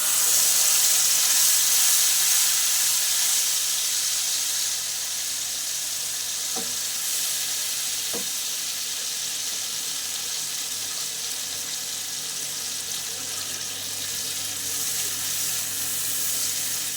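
Paste of ground cashews and medium onion sizzles steadily in a hot pan, a continuous close frying hiss with two faint clicks of a utensil, no talking.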